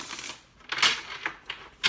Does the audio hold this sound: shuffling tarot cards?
yes